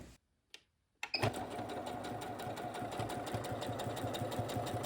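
After a couple of brief clicks, a sewing machine starts up and stitches a buttonhole steadily with a fast, even mechanical chatter, close and loud.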